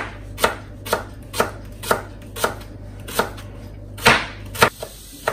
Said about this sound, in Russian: сейчас я буду нарезать лук соломочкой